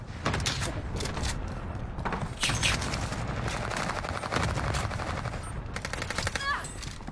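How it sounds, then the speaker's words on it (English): Shotgun blasts in a video game set on the Fortune's Keep map. Several sharp reports ring out over a constant background rumble, with a brief mechanical clatter near the end. "Let me test this shotgun on this fella."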